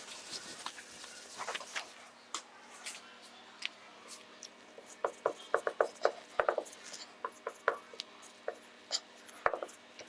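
A marker or chalk scratches out a math equation on a classroom board in short, scattered strokes and taps, quiet and close, growing busier midway.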